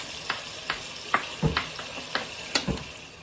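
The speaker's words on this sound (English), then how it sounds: "we're just going to put this pepper right in with our onions and our butter for our cabbage" Chopped pepper sizzles in a pan with onions and butter for a cabbage dish, the steady frying broken by a series of light clicks and scrapes as the mix is stirred.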